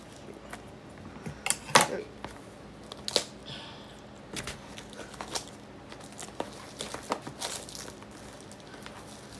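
Plastic packaging around a diamond art canvas being cut open with scissors, with close crinkling, snips and rustling bursts scattered irregularly, a few sharper crunchy peaks, and a voice speaking briefly in between.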